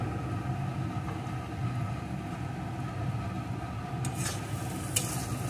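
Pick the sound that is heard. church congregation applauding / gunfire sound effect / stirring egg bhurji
stirring egg bhurji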